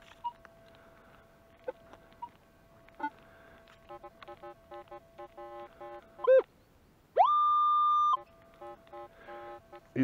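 A metal detector sounding over buried metal while searching for gold gives a series of short, choppy broken beeps, then a clean, sustained steady tone, all clear and close against quiet ground noise.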